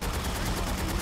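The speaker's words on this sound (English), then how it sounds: "They're shooting each other." Gunfire in the video game Haze, a dense, continuous burst of rapid shots filling the whole moment, loud and close.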